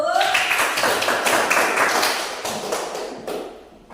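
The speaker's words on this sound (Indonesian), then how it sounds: "tepuk tangan untuk kelompok 1" Students in a classroom clap for a group of classmates, a brief burst of scattered hand claps and taps that thins out and fades toward the end.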